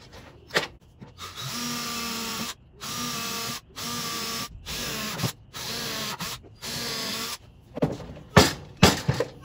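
Power drill boring into wood while building a pigeon feeder, heard close and loud in about six steady whirring bursts of roughly a second each separated by short pauses, followed by a few sharp knocks and clatters.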